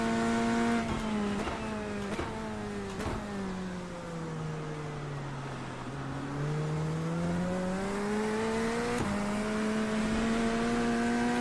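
A Corvette GT3 race car in iRacing at Hockenheim roars steadily at high engine pitch, dipping as it slows for a corner and then climbing again through sharp gear shifts, loud and continuous with no voices.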